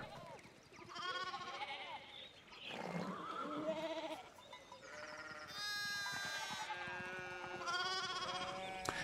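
Sheep bleat repeatedly in the medieval video game Pentiment, several wavering, harmonic calls overlapping one another close by and fairly loud, continuing through the whole stretch with no talk.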